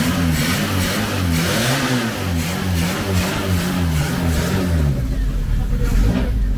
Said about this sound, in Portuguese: você pode ligar o motor e dar uma acelerada pra puxar